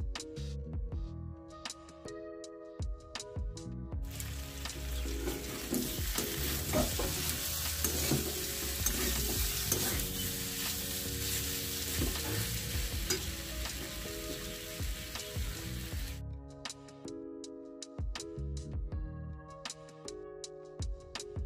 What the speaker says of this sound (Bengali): চালতাগুলো দেওয়ার পর কিন্তু গ্যাসের ফ্লেমটা মিডিয়াম রেখে বেশ কিছুক্ষণ থেকে চালতাটা আমি ভেজে নেব।